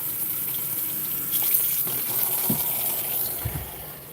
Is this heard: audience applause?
no